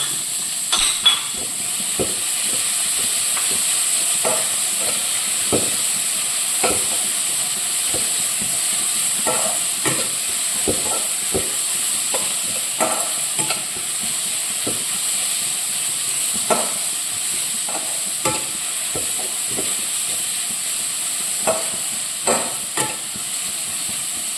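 Crushed onion, garlic, green chili, fennel and ginger fry steadily in hot oil, a loud continuous sizzle and hiss with scattered clinks and scrapes of a stirring spoon, no talking.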